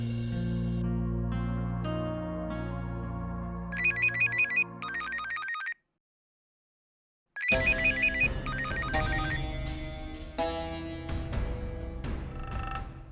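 A telephone rings in repeated electronic bursts over background music, pausing briefly in silence before the ringing tune resumes.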